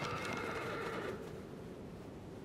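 A horse in the video game Shadow of the Colossus gives a loud, clear whinny that fades after about a second, heard alone with no talk.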